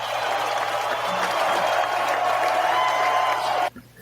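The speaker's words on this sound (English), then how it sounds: "Please give him a big round of applause." An audience applauds to welcome a guest onto a talk show, with dense, even clapping at a steady loud level for several seconds before it cuts off abruptly near the end.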